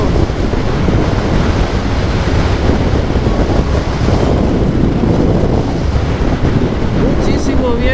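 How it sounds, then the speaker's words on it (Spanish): Strong, relentless wind buffets the microphone in the Sahara desert, a loud continuous roar with no breaks. "Muchísimo viento, pero eso sí, espectacular"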